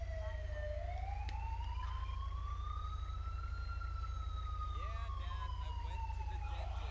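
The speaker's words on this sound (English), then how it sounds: "We're blocking traffic real quick for the ambulance here." Emergency siren from an ambulance in the LSPDFR police game, a slow wailing tone that rises and falls steadily over a constant low rumble and continues throughout.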